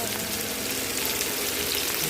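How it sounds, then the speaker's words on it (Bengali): Onion, grated ginger and tomato frying lightly in a pan, a dense continuous sizzle heard close up, steady and unbroken throughout. "এবার এগুলোকে আমি প্রথমে একটু হালকা ফ্রাই করে নেব।"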